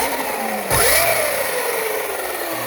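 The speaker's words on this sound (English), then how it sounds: "we can rev up the throttle" A Sur-Ron electric motorbike's motor spins up as the throttle is twisted, a rising whine that sweeps upward in pitch after a sudden onset, steady and close, with no talking.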